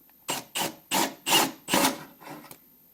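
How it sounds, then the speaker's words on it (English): A drill works something out in a series of about six short, rasping bursts of roughly equal length, the last ones weaker, with brief pauses between them, close up. "We'll see if I can drill it out."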